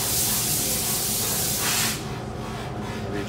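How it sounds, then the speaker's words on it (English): Compressed air blasts from a nozzle to blow dust off a 5/8 screw for a Sig P365 holster build, a loud broadband hiss lasting about two seconds before cutting off, leaving quieter room noise. "blow all the dust off."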